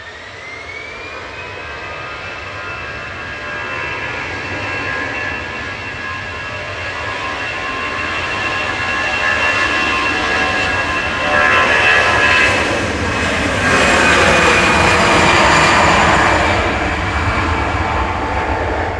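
A 24-year-old TAP Air Portugal Airbus A320 Classic jet departs Manchester Airport for Lisbon, its engines whining and then building into a loud, rising roar.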